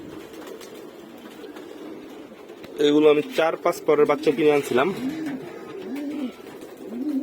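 White doves cooing, repeated soft low coos running steadily from nearby, with someone talking over the middle stretch.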